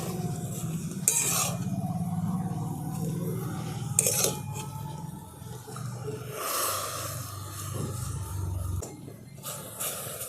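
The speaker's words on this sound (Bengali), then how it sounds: "এবার একটু নাড়াচাড়া করে নিচ্ছি, মিশিয়ে দিচ্ছি নুন হলুদটা পুরো শাকটার সাথে" Susni greens tossed with salt and turmeric in a wok, a utensil scraping and clinking against the metal in intermittent strokes with soft sizzling between, close and fairly quiet.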